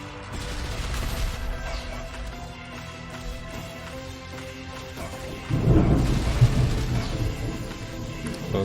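Thunder and lightning effects from the video game Heroes of Hammerwatch rumble low and distant under steady game sound, swelling into a louder crashing roll near the end.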